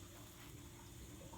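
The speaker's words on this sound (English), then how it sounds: "the water is flowing into the tub hot." Faint, steady rush of hot water pouring from a tap into a tub, a continuous hiss with no breaks or voices.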